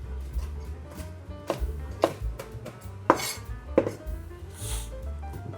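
Spring onion stems being finely chopped with a knife on a board, a series of sharp, irregular taps and clacks close by, with light clinks in between.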